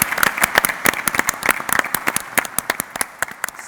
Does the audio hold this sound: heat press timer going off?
no